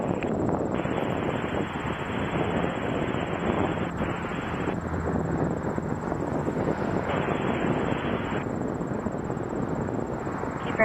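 A plane taking off from runway 23 at Toronto Pearson Airport, a sustained broadband engine roar heard from a distance, steady and loud throughout with no speech.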